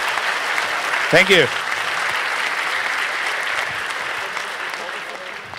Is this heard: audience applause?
yes